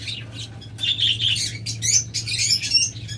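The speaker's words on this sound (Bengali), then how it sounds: "দেখুন সাদা রিং নেক, মানে সাদার মাঝে গলায় কালো মালা দেখতেছেন, তাও আবার সুইটাল" White ringneck parakeets give bursts of high, shrill chirps and squawks, near and fairly loud, with short gaps between calls over a low background hum.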